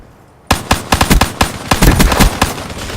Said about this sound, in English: Teammates shooting over the truck.